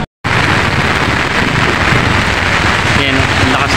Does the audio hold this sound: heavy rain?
yes